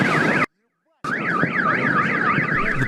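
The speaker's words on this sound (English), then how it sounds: "powerful blast set off car alarms and shattered windows across the city." A car alarm triggered by a meteor's blast wails in a loud, rapidly warbling tone, cut off by a half-second gap and then resuming close and steady.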